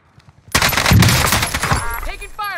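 Rapid automatic gunfire from an M4A1 rifle in Call of Duty Warzone, a loud sustained burst of shots lasting over a second, then fading into scattered tones and a brief voice.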